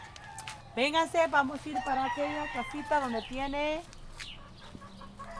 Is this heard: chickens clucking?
yes